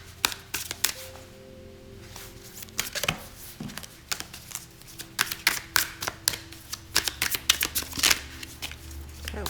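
A deck of tarot cards being shuffled up close, with repeated quick riffles and sharp papery flicks and taps coming in uneven bursts, loud and clear with no talking.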